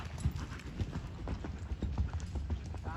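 Hooves of a ridden horse at a futurity event clip-clop in a steady rhythmic stride, close and fairly loud, with faint background voices.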